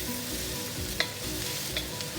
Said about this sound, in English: we're going to stir these onions and peppers around.